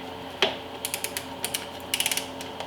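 Hand ratchet clicking on a rusty 10mm bolt of a Chevy Tahoe, a sharp initial clank followed by short bursts of rapid pawl clicks, close and crisp with no talking.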